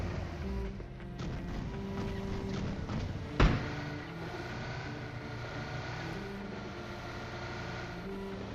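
Vehicle driving in PUBG, a steady droning engine rumble with rolling noise, moderately loud and continuous, with one sharp impact crack partway through.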